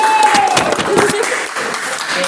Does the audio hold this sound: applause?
yes